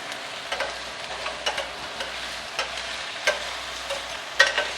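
Potatoes frying in oil in a pan over medium heat, a steady hiss underneath a string of light stirring taps and clicks at irregular intervals, close and moderately loud.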